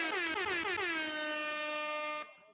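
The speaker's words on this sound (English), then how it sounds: "It should be the air horns." An air horn sound effect played during a podcast blasts as one loud, sustained, slightly wavering honk lasting about two seconds before cutting off abruptly.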